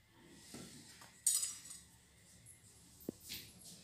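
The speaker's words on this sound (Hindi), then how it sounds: "फिर इसको हम चम्मच से अच्छे मिक्स कर देंगे।" A spoon clinks faintly against a bowl while mixing methi paratha filling, with a few sparse, soft taps in an otherwise quiet kitchen.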